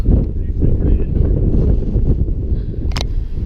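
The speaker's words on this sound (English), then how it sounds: "It's pretty windy." Strong wind buffets the microphone in a continuous low roar aboard a sailboat at Put-in-Bay, with a brief sharp rustle near the end.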